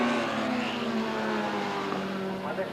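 Racing motorcycles scream down Conrod Straight at Bathurst during the 1983 Thousand, a loud, sustained engine whine with shifting pitch, heard up close under a commentator's excited voice.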